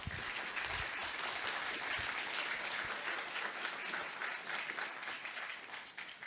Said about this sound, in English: A special applause for him